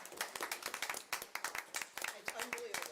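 Clapping from a small group at a school board meeting, a run of distinct sharp hand claps close by, uneven and sparse rather than a full roar, with some talk mixed in.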